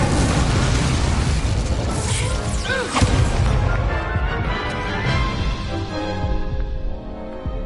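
Fiery spell blasts from the Incendio spell in Hogwarts Legacy, a loud continuous stretch of crashing, booming bursts with scattered impacts, no voices.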